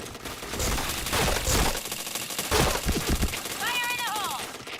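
Bursts of gunfire from a shooting video game crackle through a busy in-game mix, with voices talking over parts of it and rising chirpy effect tones near the end.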